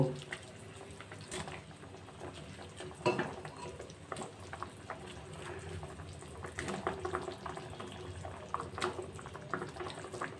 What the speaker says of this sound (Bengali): আলু সিদ্ধ হয়ে গেছে এবার আমি একে একে কোপ্তাগুলো দিয়ে দেব